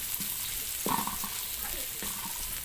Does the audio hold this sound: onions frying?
yes